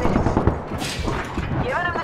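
A shooter video game gives a short stretch of loud, dense gunfire and impacts, with a voice speaking over the noise.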